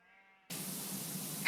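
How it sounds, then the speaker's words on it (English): Sheep in Powerwash Simulator 2 bleat once, a short nasal call heard clearly up close, followed by a sudden steady hiss of game ambience or spraying water. "Am I going to hear cow sounds the whole time? Cows and sheep?"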